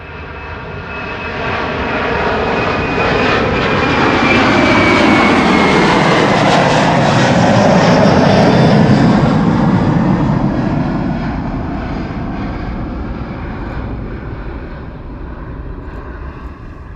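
A French Airbus A330 jet airliner passes near the runway 24 threshold at Schiphol, a broad roaring engine rumble that swells over several seconds to a loud peak, then slowly fades as it moves away, with a whining engine tone.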